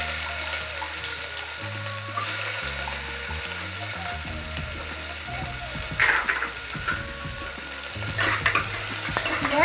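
Onions sizzle steadily in a hot pan while a spoon stirs and scrapes through them, with a few louder clatters near the end.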